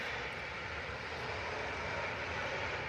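An aircraft engine roars steadily at Manchester Airport, a broad, constant drone from a plane on the runway at moderate distance, with no voices.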